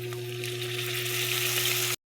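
Pork sizzling loudly in a pan as soy sauce goes in for humba, a dense continuous hiss over a steady low hum, cutting off abruptly at the end.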